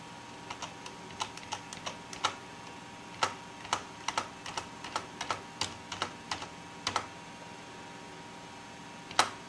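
Computer keyboard keys pressed in an irregular series of quiet, crisp clicks, close to the microphone, with short pauses between bursts.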